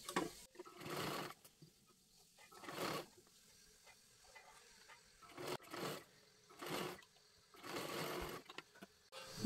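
A sewing machine stitches a puffed blouse sleeve in several short bursts of whirring, each a second or so long, separated by quiet pauses, close and fairly soft.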